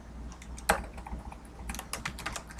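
Typing on a computer keyboard, quiet irregular clicks in short runs with one sharper keystroke early on, close and alone.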